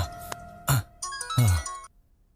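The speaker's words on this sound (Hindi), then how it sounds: "किसका फोन आ गया?" A short electronic ringtone plays a few bright, tonal notes in quick succession, then cuts off to near silence.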